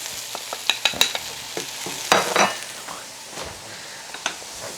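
Spices fry and are stirred in a pan, with a soft sizzle under scattered close clinks and scrapes of a utensil against the pan and a brief burst of rattling stirring midway.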